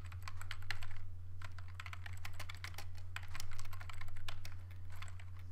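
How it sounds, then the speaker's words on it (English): Typing on a computer keyboard: brisk, irregular bursts of close key clicks with short pauses, played over a steady low electrical hum. "So I will type, "The description of the sword is,""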